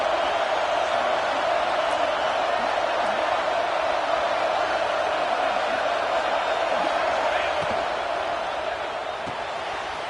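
Stadium crowd noise in a simulated football video game, a steady loud roar of cheering fans on fourth down that holds throughout and eases slightly at the end.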